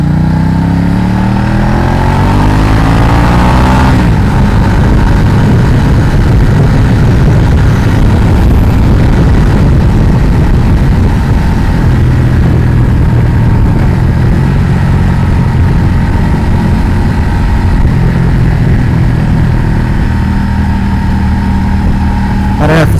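A 2012 Ducati Diavel motorcycle with a titanium Termignoni exhaust rumbles loudly and steadily through a ride, its deep engine note rising and falling with throttle changes, while a rider talks over it.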